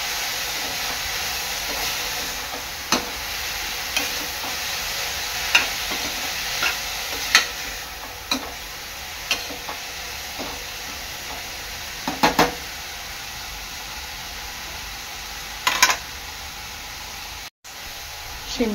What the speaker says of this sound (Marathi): गाजर चांगला परतून घ्यायचा आहे।